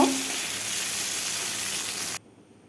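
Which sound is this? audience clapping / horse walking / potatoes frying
potatoes frying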